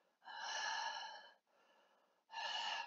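A voice imitates Michael Myers' heavy breathing from Dead by Daylight: a loud, rasping inhale, a softer exhale, then another harsh breath, close and breathy.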